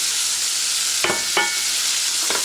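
Onions gently sautéing in a pan until glassy, a constant close hiss of frying, with a few short utensil scrapes and stirs cutting through.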